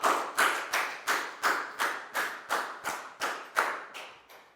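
Children clap in unison during a Year 4 science lesson, a group giving about a dozen evenly spaced, sharp claps in steady rhythm, each one loud and close with a quick decay.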